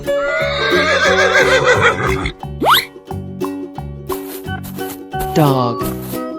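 Horse neighing in a 3D animal slide video game, two bright whinnies rising and falling over bouncy game music, with sliding effects between them.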